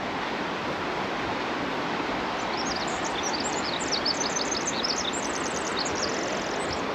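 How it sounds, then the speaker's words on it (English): A river rushing along the Little River Trail in Olympic National Park's rainforest, a loud steady broadband roar of flowing water throughout, with bird chirps calling faintly over it in the second half. "shoot some video of the river and of whatever the waterfall is that's tucked in behind these trees"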